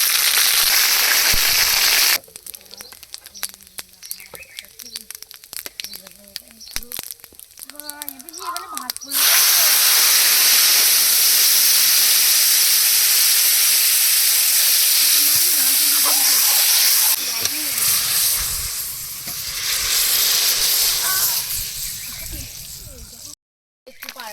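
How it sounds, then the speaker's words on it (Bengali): Whole cumin, bay leaves and ginger paste sizzle in hot oil in a kadai, a loud broadband frying hiss that swells and fades in bursts, with a person speaking over parts of it. "কড়াইতে তেল দিয়ে দিয়েছি এবার দিয়ে দেবো গোটা জিরা তেজপাতা আদা বাটা"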